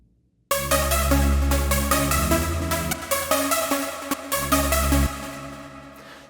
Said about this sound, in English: I'm just going to add a little bit of distortion with the wave shaper just to bring the volume up.